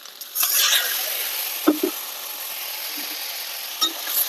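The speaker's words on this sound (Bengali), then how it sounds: "ভালো করে নেড়ে চেড়ে নেবো।" Spice paste of ginger, cumin, coriander and turmeric with a splash of water is stirred in a frying pan, giving a steady soft sizzle with a few quick scrapes and taps of the spoon.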